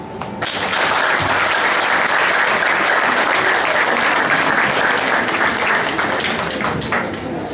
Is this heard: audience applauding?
yes